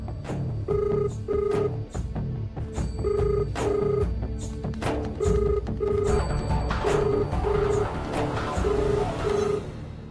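An unanswered telephone rings on and on in a steady pattern of paired electronic trills separated by short pauses, clear and fairly close.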